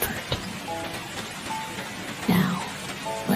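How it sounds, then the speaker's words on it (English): Gentle drizzle pattering on window glass, a soft steady patter of raindrops with a few brief tones and faint swells mixed in, calm and close. "droplets gently tap on the windows"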